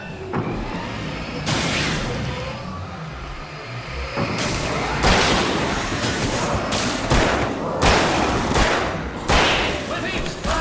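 Rapid bursts of video game fireworks, explosive cracks and booms, crowd together over a loud, dense backdrop of music and game noise, coming in uneven clusters in Alan Wake.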